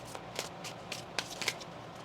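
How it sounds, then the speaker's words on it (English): Tarot cards are shuffled by hand up close, making soft, quick riffling and papery snaps in an irregular run of brief bursts. The sound is quiet, with no talking. "One more shuffle."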